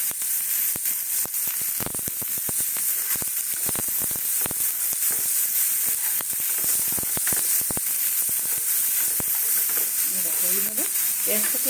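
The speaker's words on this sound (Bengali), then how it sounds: "ওইভাবে সুন্দর করে ভেজে নেব আমি" Onion fries crisp in hot oil with a constant loud sizzle, cut by frequent sharp clicks and scrapes from stirring in a steady, uneven rhythm. No one speaks.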